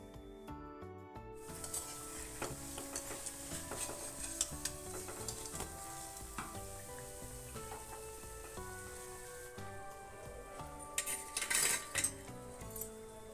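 Crispy, puffed rice snacks fry quietly in oil with a soft, continuous sizzle while a utensil turns them, giving occasional light clinks against the pan, with faint tonal music in the background.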